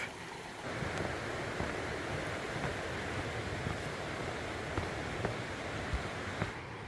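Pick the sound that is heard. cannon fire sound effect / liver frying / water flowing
water flowing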